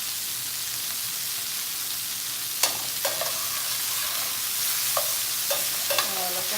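Chicken keeps frying in a Saladmaster pan after being turned over, a steady bright sizzle broken by a few scrapes and clinks of the utensil, close-up, with no voices.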